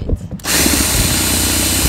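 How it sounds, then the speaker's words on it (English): A power drill with a 9mm bit bores a larger hole behind the clutch pedal of a VW Jetta, starting after a brief pause and then whining steadily and loudly right up close. "We're gonna drill out a bigger hole to make this one fit. I'm using a 9mm drill bit."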